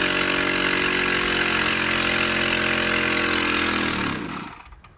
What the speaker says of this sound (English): So I'll start with the air engine.